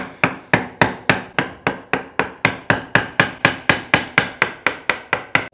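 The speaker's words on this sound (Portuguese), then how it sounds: "Na lateral da circunferência, eu já começo a bater mais devagar." A mallet strikes a chisel while carving wood, about twenty steady, evenly spaced knocks in a regular rhythm, close and clear with no talk.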